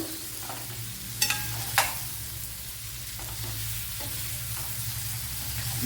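A rambutan pickle mixture sautés in a pan over a low flame, giving a soft, continuous sizzle. A spoon stirs it, with a couple of sharp scrapes and clicks against the pan early on and quieter stirring afterwards.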